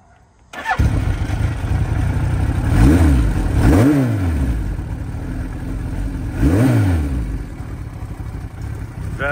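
A vintage Yoshimura Suzuki motorcycle fires up and then revs loudly up close, with three rising-and-falling throttle blips over a steady rough idle.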